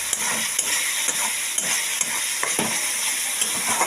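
Garam masala fries in hot oil with a steady bright sizzle and occasional soft stirring taps, close up and continuous.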